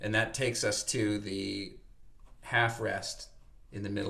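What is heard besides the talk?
No distinct noise like a dog, phone or traffic.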